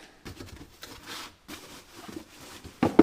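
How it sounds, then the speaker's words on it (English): An auto-dimming welding mask pulled from its packaging: close, steady rubbing and scraping of cardboard and plastic in short bursts, ending with a couple of louder knocks, with no talk. "Kind of do some unboxing here."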